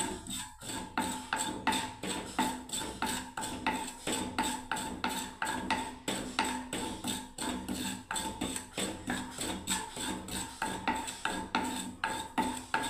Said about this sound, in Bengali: ভালো করে পোস্তটাকে আমি খুব সুন্দর করে ভেজে নিচ্ছি